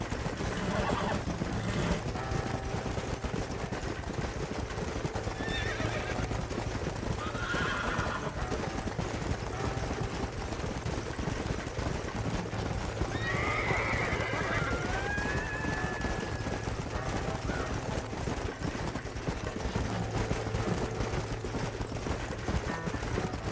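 Horses in the video game Red Dead Redemption whinny and neigh over steady clip-clopping hooves, with a dense ambient game soundscape throughout and brief voice-like sounds mixed in.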